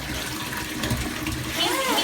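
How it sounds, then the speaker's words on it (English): Bath water runs steadily into a tub being filled as full as possible for a child's water therapy, a continuous near rushing with a brief swirl near the end. "I like to fill the bathtub up as far as it can go"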